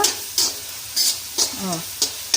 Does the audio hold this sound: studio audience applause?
no